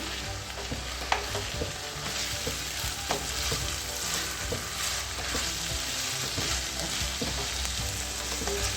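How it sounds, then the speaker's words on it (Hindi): Minced meat and capsicum fry on high flame in a pan, giving a loud, steady crackling sizzle with scattered stirring scrapes that runs throughout, with no voices. "बस मैं इसको 2 मिनट के लिए थोड़ा सा हाई फ्लेम पे फ्राई करती हूँ थोड़ा सा।"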